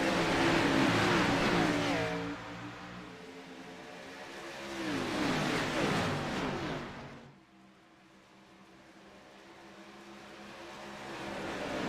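Stock cars racing at Homestead-Miami Speedway in a racing video game, engines droning loud and steady, swelling and fading as the pack passes, then dropping to a softer, more distant engine roar.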